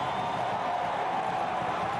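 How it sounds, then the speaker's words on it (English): Stadium crowd at a USL Championship soccer match in Louisville roars steadily after a home goal, a continuous dense wall of cheering. "Listen to that crowd."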